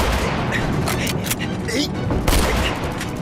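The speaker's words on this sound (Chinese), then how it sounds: "没有你这么打枪的，你这是浪费子弹，知道吗？" Rifle gunfire crackles in a war drama set in the anti-Japanese war, with sharp repeated shots and bursts scattered across the few seconds at moderate loudness, mixed with some shouting.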